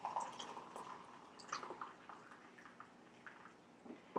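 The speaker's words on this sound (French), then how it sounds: "je viens et j'ajoute tout simplement mon eau chaude" Hot water is poured into a mug of herbal tea, making a faint, close trickle with small drips and gurgles over soft room hiss.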